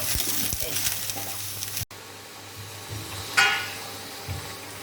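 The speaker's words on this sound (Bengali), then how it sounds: "জাস্ট গাজর, বিনস, কড়াইশুঁটি সবই একটু একটু করে ভেজে রাখছি" Carrots, beans and peas frying lightly in a pan for a home party meal, a steady soft sizzle with occasional stirring scrapes and a brief clink from the pan.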